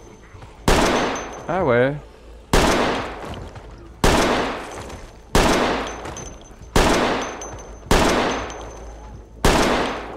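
Slow, heavy gunshots fired into a zombie horde in the survival game Project Z: about seven loud, evenly spaced blasts, each with a long decaying tail, and a brief voice in between.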